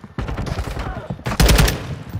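Gunfire bursts in the team shooter game Team Fortress, a rapid cluster of loud shots near the end following a stretch of game noise and voices.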